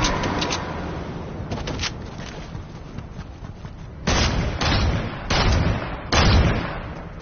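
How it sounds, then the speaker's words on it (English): Bursts of Fortnite gunfire, a few sparse shots early on, then four loud, heavy volleys in quick succession near the end, with no talking. "Oh, gunshots."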